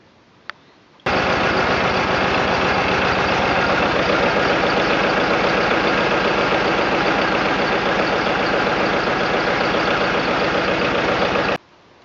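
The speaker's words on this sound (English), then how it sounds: "The tractor ran without any drips" A John Deere 820 diesel tractor, freshly fitted with a new fuel filter gasket, rumbles at a steady idle, close and loud, starting abruptly after a second of quiet and cutting off cleanly near the end.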